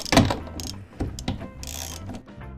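A ratchet fitted with a 12-point socket tightens the fuel tank nut on a Lotus Elan M100, giving a few close, loud bursts of mechanical clicking with no voices.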